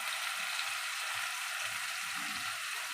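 Spices fry in a pan before poppy seed and cashew paste go in, giving a steady, even hiss with faint low crackles underneath, with no talking.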